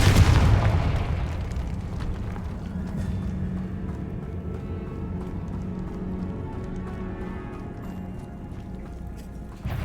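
A Confringo fire spell in Hogwarts Legacy sets off a heavy boom at the outset, then a long, low rumbling decay that slowly fades through the rest of the moment.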